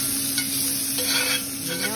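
Garlic and onion frying in a very hot cast iron skillet while making steak bites in burgundy wine sauce, a loud, even close sizzle with faint stirring scrapes under it.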